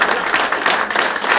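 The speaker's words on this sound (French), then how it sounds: "on va applaudir ça quand même" A crowd at an exhibition opening gives a short, close burst of brisk, dense applause lasting under two seconds, with no voices over it.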